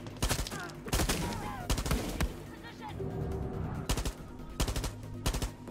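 Rifle fire in Far Cry 6 comes as loud, rapid bursts of shots in clusters with short gaps between, along with some talk.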